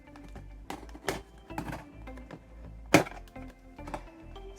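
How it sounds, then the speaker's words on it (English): Scissors snip through the cardboard of a LEGO Super Mario Luigi starter course box, making scattered sharp clicks and crunches at close range, with one louder snap partway through. "let's open it up, and for that I need a pair of scissors"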